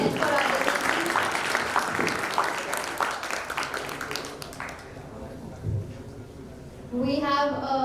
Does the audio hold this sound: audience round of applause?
yes